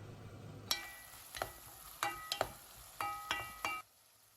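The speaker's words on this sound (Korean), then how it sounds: "무가 투명하게 될 때까지 5분간 볶는다." Radish and beef stir-frying together in a pot, with a soft sizzle under a series of sharp metallic scrapes and clinks as a utensil stirs, ending abruptly.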